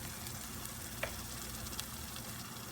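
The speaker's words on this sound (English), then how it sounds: "Ginger and onion has fried nicely" Ginger and onion paste sizzles in hot oil in a pan, joined by tomato paste for a prawn malai curry; a steady, dense frying hiss with a couple of faint clinks and no talk.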